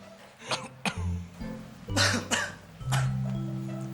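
A pharmacy customer with a cough that won't clear coughs and clears his throat in several harsh, separate bursts, close and fairly loud, against a faint background hum.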